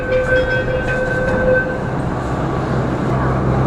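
A Jaipur metro train rumbles steadily from inside the car, a loud continuous roar with a brief two-tone electronic chime or whine near the start. A voice speaks faintly underneath.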